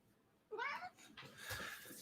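A cat lets out a clear, close meow, then a second longer, rougher meow that trails off, both alone against a quiet room.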